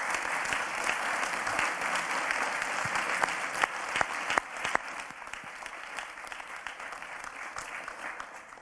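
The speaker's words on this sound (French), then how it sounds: "Et on peut les applaudir." A crowd at an awards ceremony claps steadily, a dense patter of hands that stays fairly even throughout, with a few sharper claps standing out near the middle.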